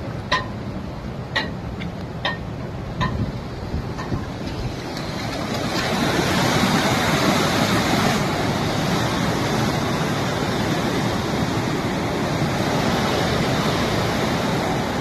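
Dam gates at Himayat Sagar in Hyderabad release water into the Musi river, a broad steady rushing roar that builds and stays constant, with a few sharp ticking clicks early on.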